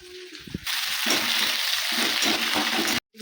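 Crushed garlic and green chili dropped into hot oil, a few soft clatters followed by a sudden loud, dense sizzle that holds steady for a couple of seconds before cutting off abruptly.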